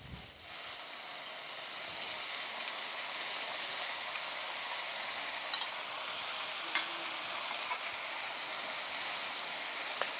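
Scallops searing in a restaurant pan with garlic and sun-dried tomato, a faint, even hiss of sizzling held steady throughout, distant and without talk.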